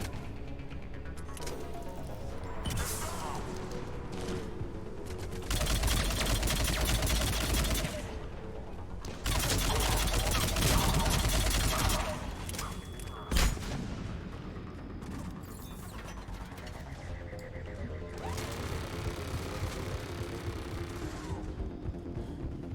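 Turret gunfire in Mass Effect 3 sounds as bursts of rapid automatic fire mixed with blasts and sharp cracks. It rises into two loud sustained stretches amid ongoing combat noise.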